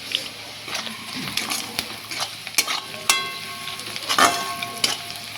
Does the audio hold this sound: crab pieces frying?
yes